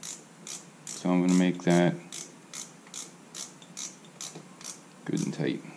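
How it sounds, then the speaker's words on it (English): A torque wrench ratchets as a bolt is tightened on the brake caliper of a 1983 Honda Shadow 750, giving a run of close, regular mechanical clicks, with someone speaking briefly in between. "And I'm going to torque on the opposite side the same."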